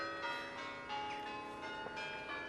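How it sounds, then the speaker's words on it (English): Church bells ring steadily at a moderate distance, their overlapping tones sustained and layered throughout with no voices. "Ringing the church bells,"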